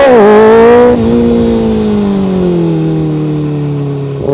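A motorcycle with traction control off and full power revs hard for a clutch-up wheelie. One loud, close engine note climbs, then holds and slowly drops in pitch as the bike rolls on the rear wheel.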